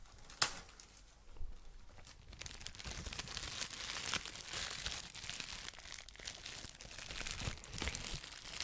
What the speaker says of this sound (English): Just trying to get this plastic off here.